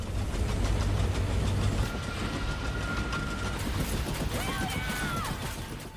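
A low tractor engine rumbles steadily, heavier in the first two seconds, then idles on under faint outdoor noise and a brief high whine.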